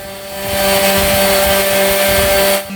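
A power sander grinds old layered paint off a salvaged workbench, a steady loud whine with constant tonal hum and rough broadband grit, running continuously before easing off at the end.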